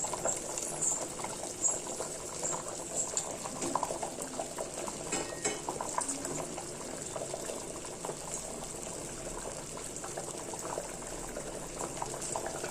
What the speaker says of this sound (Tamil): நல்லா கொதித்து சுண்டி வரட்டும்